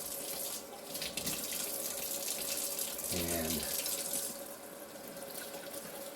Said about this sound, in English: we're going to be washing these off in cold water